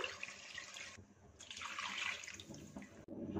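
Water pours into a pot of chole in a home kitchen, a steady splashing rush that briefly breaks off and resumes, close and fairly soft with no talk.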